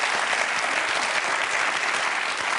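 An audience at a close-up magic show applauds loudly and steadily, a dense wash of clapping from many hands with no break.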